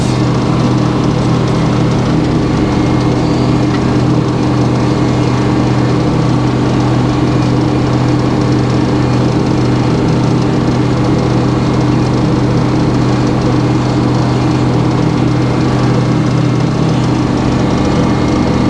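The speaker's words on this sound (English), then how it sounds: "This is where the circle mill comes in, way above the band mill, because band mills would really have a hard time with these knots." A circle sawmill with a motor running steadily as the blade works through a knotty log, a loud continuous droning whine with no breaks across the whole stretch.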